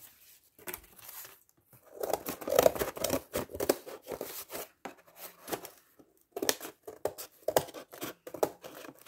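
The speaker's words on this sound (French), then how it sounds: "Là, je vais finir le couper au ciseau." Paper being cut with scissors to finish trimming a traced circle, giving repeated crisp snips and rustles in irregular bursts, close and fairly loud, with short pauses between cuts.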